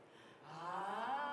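A voice imitates mouth snoring with a single rough, rasping breath that swells from faint to steady and loud, heard alone without talk.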